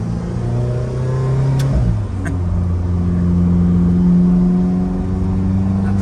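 An Alfa car's engine revs hard in third gear as it climbs from about 3000 to 4000 rpm, a loud, close, sustained drone that rises in pitch, with a brief dip partway through and no talking.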